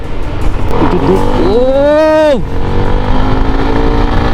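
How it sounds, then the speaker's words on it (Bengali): A CF Moto SR 300 motorcycle with a 300cc engine, heard close and loud as it revs up in a rising whine, holds briefly, then drops off sharply before settling back to a low idle. "এই প্রথম তিনশো সিসি বাইক রাইড করার অভিজ্ঞতা"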